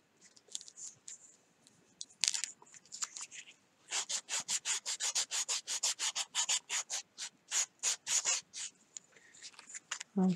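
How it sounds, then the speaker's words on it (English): A carved wooden fishing lure is hand sanded in quick, rhythmic rasping strokes, close and fairly quiet, with scattered scrapes before a steady run of regular back-and-forth rubs. "And I'm going to start sanding on his tail"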